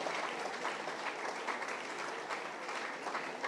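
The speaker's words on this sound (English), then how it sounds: "Amidst a good round of applause." A crowd claps steadily at a felicitation ceremony where the Tamil Nadu Governor honors actor R. Parthipan, a continuous, even patter of many hands heard at a moderate distance with no talk over it.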